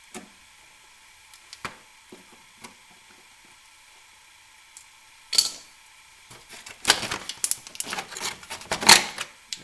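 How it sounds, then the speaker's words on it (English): Plastic engine-cover pins on a 3800 3.8 engine being pried out with a screwdriver and pliers: a few isolated clicks, then dense bursts of scraping, clicking and snapping plastic toward the end. "I'm just going to use what I have: a screwdriver and a pliers"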